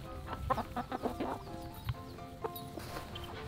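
A frizzled silkie bantam chicken clucks in a backyard, giving a run of short, bright clucks at irregular intervals, close and fairly clear over faint background noise.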